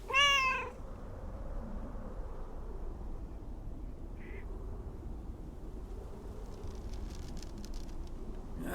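A single close, clear cat meow sounds at the very start, then fades into a quiet room murmur with only faint scattered noises afterward.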